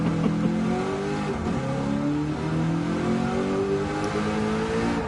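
A Mustang race car engine over-revs in a driving simulation, a loud, sustained engine whine rising and falling in pitch in repeated surges, with no talk.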